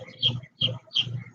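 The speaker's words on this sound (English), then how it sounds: "You hear the birds singing your praises." Birds call in short repeated bursts, three bright chirping phrases with soft cooing underneath, fairly close and clear against a quiet background.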